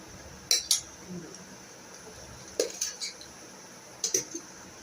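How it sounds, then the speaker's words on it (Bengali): Rice being served onto a plate for lunch, three short bursts of spoon scraping and clinking against dishes separated by quiet pauses. "আমার ভাতটাও বেড়ে নিই।"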